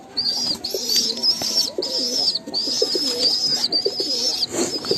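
Young hand-fed Giribaz pigeons coo and grunt repeatedly in a close, continuous stream of soft throaty calls with a few faint chirps, fairly loud and with no talking.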